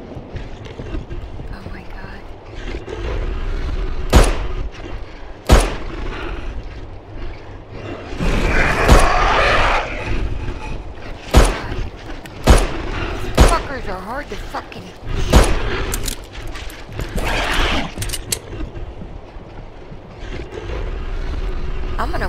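Gunshots in the horror video game Fobia, set in the St. Difna Hotel: about a dozen sharp, loud bangs fired at irregular intervals, with muffled game ambience and someone talking between them.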